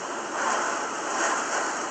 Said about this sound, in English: that's the water hitting the windows and coming down